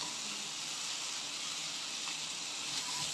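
Eggplant with curry leaves sautés in a pan, giving a steady, even sizzling hiss that holds without a break for a few seconds, close up and with no speech over it.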